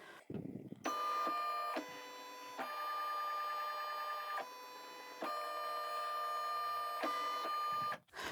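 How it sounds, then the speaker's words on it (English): A POOLIN EOC05 embroidery machine traces the outline of a design, its motor whining in steady tonal stretches that shift pitch as the hoop moves, loud and close with no talking. "that was the trace button that I pressed. It just traces the outline of the embroidery design."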